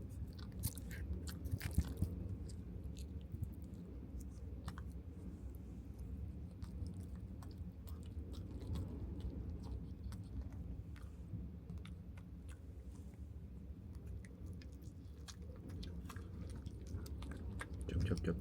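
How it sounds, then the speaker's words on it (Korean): Soft, close chewing with wet smacks and crunchy bites repeats steadily over a quiet background hum. "쩝쩝쩝쩝 거리는데"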